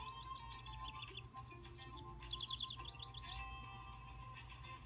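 Faint bird chirps and tweets come in short bursts over a steady low hum, somewhat distant, with no one speaking.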